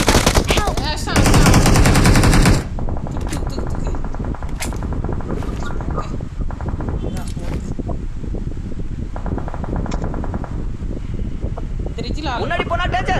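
Automatic gunfire in the mobile game PUBG Mobile, with a loud sustained burst of rapid shots followed by scattered shots and game sounds under excited players talking over the action.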